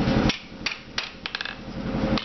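Sharp hammer blows ring out on a hot bushcraft knife blade held flat on an anvil, several spaced strikes with a quick cluster of taps in the middle, close and loud over a steady low forge roar.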